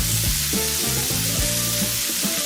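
Lamb chops sizzle on a grill with a loud, constant hiss, while lower tonal hums shift in pitch underneath.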